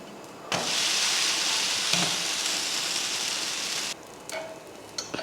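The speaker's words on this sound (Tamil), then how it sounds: "தோசை ஊற்றிட்டு மேலே எண்ணெய் ஊற்றிக்கோங்க" Dosa batter frying on a hot pan with oil poured over it: a loud, steady sizzle that lasts several seconds and then drops away, followed by a few faint clinks.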